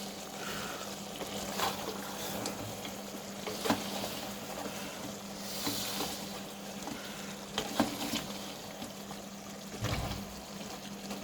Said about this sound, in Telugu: ఇప్పుడు ఒక్కసారి కలిపేసుకుందాం.